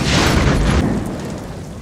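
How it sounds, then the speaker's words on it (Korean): A crashed car explodes after skidding on a snowy road, a loud rumbling boom that fills the first moment and then fades into a lower, decaying roar, with no voices. "결국 자동차는 폭발해버립니다."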